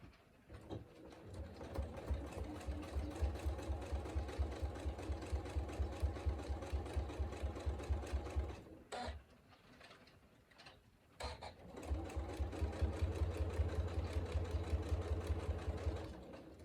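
A sewing machine top stitches a workshop bag, running in steady rapid bursts with a dense mechanical chatter, pausing for about two seconds midway before resuming at a similar close, even pace.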